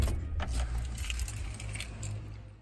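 Keys clinking together with the remote fob for a 2013 Chevy Silverado 1500 LT pickup, several close, bright metallic jangles through the clip with a low steady rumble beneath.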